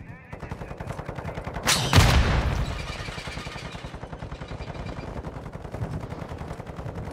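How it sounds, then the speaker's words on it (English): A sentry gun in Call of Duty DMZ fires continuous rapid automatic bursts, with a loud explosion-like blast early on and chattering gunfire continuing throughout amid faint voices. "That's definitely a sentry gun."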